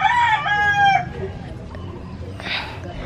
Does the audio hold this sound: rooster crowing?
yes